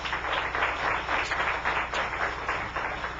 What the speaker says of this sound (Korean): 여기서 박수 한 번.